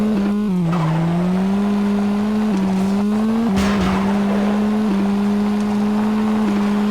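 A race car in a 1998 PlayStation racing game demo drones with a steady, buzzing engine note that dips and jumps with gear shifts, loud and continuous throughout, with no voices.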